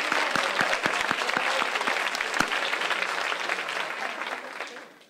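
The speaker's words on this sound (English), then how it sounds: "We can applaud again." An audience at an evening book festival event applauds, dense clapping from many hands that holds steady and then fades out toward the end.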